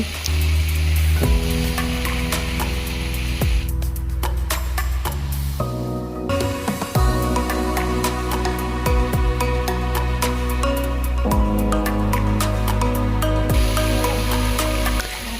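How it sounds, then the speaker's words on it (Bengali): Fried vegetable stems and potatoes get stirred into a cooked spice paste for a rui fish curry, a loud continuous sizzle broken by repeated scraping strokes of a spatula against the pan, with no voices. "মশলা কষানো হয়ে গেলে এর মধ্যে ভেজে রাখা ডাঁটা এবং আলু দিয়ে নাড়াচাড়া করব।"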